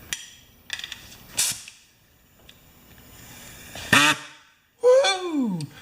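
A small pneumatic air tool, oiled and run on 90 psi compressed air, gives short separate bursts of hissing and rattling running noise with pauses between them, close by and with no talk.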